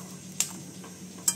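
Sponge gourd with dry fish powder sizzles in a wok as it is flipped, a steady low frying hiss broken by two quick metallic clinks of the utensil against the pan, close and fairly loud, with no speech.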